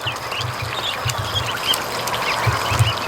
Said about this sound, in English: So the ducklings are out, having fun.